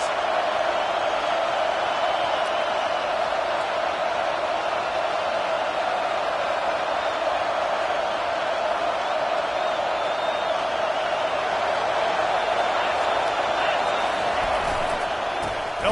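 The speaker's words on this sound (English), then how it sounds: "this crowd is making it miserable on this offense." A roaring football stadium crowd on fourth down, a steady, loud wall of cheering and noise that never lets up and surrounds the listener.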